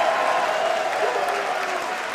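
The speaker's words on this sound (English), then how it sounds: "They haven't even locked up yet, and this crowd's on fire." An independent wrestling crowd roars and claps steadily before the opening lock-up, a dense, loud wash of cheering and applause with a voice audible over it.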